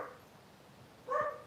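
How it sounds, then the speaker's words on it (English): A passing dog gives a short bark or yip near the end, moderately close and brief, after a stretch of quiet room tone. "Somebody's walking by with the dog."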